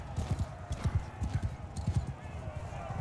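Horse hooves clip-clop in a Mount & Blade II Bannerlord battle, repeated hoof beats in an uneven rhythm.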